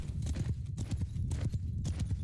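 Horses gallop in the video game Mount & Blade II: Bannerlord, a dense rapid clatter of many hooves with strong low thumps, close and loud throughout, with no talking heard.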